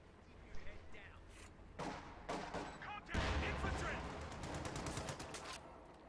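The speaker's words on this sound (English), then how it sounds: "Sherman engaging Fusiliers here in the south." Video game battle gunfire as a Sherman tank fires on Fusilier infantry: sharp reports and bursts, some distant, building into heavier fire and a loud blast near the middle, with a voice talking over parts of it.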